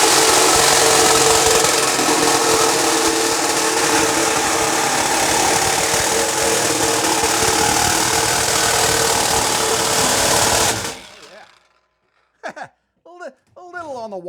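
A Sawzall reciprocating saw cuts through material while building an off-grid solar power shed, a loud, steady rasping buzz for about eleven seconds that stops abruptly, followed by a few short spoken words.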